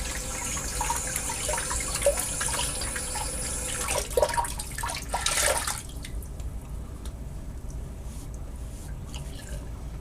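Cool water streams from a bathroom sink tap after a double-edge razor shave, a close, steady splashing flow that cuts off about halfway, leaving faint drips and quiet room sound.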